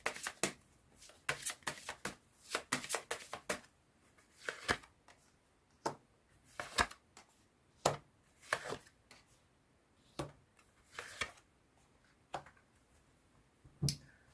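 Tarot cards being shuffled by hand before a draw. Crisp riffles and slaps come close up in irregular bursts over a quiet room, with nobody speaking.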